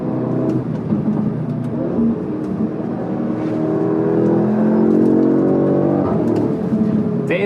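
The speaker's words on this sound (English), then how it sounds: "Oh, that exhaust, man." Audi S3 8Y exhaust under acceleration, a steady rising engine drone with shifting tones heard from inside the car, fairly loud and without talk.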